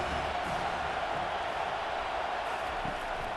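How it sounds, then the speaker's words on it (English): Steady, roaring stadium crowd noise from College Football 25 during a Penn State vs Auburn game, a dense continuous wash of cheering that swells slightly as the defense lines up on third down, with no talk over it. "Decibels rising as the crowd gets behind this defense on third down."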